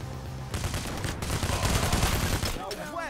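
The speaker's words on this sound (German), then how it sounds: "Ich bin eine kleine Prinzessin und schieße euch alle ab." Rapid, sustained automatic gunfire in the heist shooter Payday: The Heist, a dense clatter of shots at steady loudness, with a voice speaking near the end.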